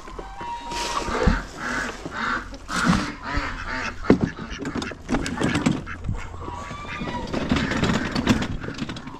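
Farm ducks in a small mini-zoo quack loudly and repeatedly in a dense, overlapping chorus, with honking calls mixed in and occasional thumps nearby.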